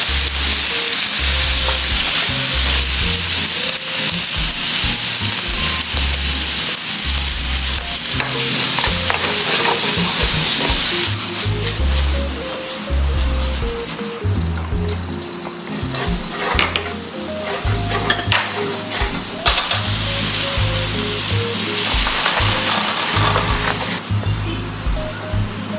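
Ground meat fries in a pan for a Filipino cauliflower pizza crust recipe, a loud continuous sizzle with repeated scraping stirs throughout, close up, no talking.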